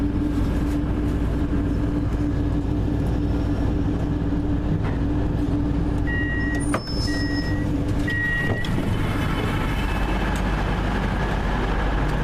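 Train running on rails near Lancaster and Carnforth, heard from on board as a steady low rumble, with a few brief tonal beeps partway through and no talking.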